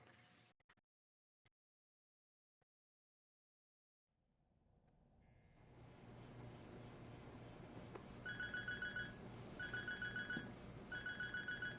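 A phone ringtone in the Sleeping Dogs video game chimes in three repeated electronic bursts over a rising background hum of game ambience, following a few faint clicks and near silence.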